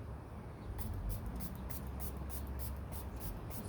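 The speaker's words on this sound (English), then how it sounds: "I'm just spraying that lightly." Spray bottle spritzing food coloring onto paper in a quick run of about ten short, regular hissing puffs, close and fairly faint over a steady background hum.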